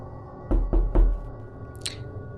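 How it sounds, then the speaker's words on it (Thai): Three sharp knocks on a door late at night come in quick succession at close range, followed by a fainter tap, with no one speaking. "ก็มีเสียงเคาะ"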